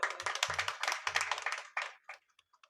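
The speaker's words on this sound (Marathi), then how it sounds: "टाळ्या वाजून उपयोग होणार नाही." An audience clapping at a kirtan gathering, a brief burst of scattered hand claps that thins out into a few isolated claps and fades to quiet.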